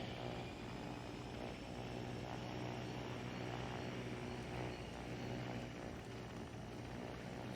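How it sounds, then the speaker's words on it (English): A player-built helicopter in the game Trailmakers drones steadily throughout, a faint, even rotor and engine hum with no breaks and no talk. "We're just flying helicopters."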